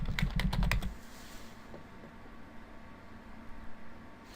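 A burst of quick keystrokes on a computer keyboard is heard up close, followed by a quiet room with a few soft clicks.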